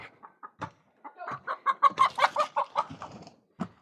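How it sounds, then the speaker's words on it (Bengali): Roosters and hens cluck on a farm with about three roosters and some twenty-five hens, giving a close run of rapid, overlapping clucks and squawks that build and fade, with a few isolated calls at the start and end. "আর প্রায় তিনটা মোরগ টোটাল আর চার চব্বিশ পঁচিশটা হচ্ছে মুরগি"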